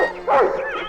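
A family dog gives a single close, loud bark with a whimpering, yipping edge, short and sharp.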